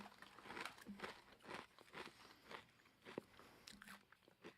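Someone bites into and chews crunchy sea salt vegan puffs, the crisp crunches coming in a quick, uneven series, close to the mic and fairly quiet.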